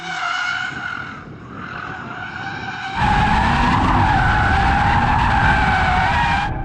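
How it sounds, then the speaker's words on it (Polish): An Audi RS3 drifting, its tires squealing in a sustained high skid that jumps sharply louder midway as the engine roars under it, close and continuous for several seconds. "Jestem w Audi RS3 i próbuję driftować sobie w nim."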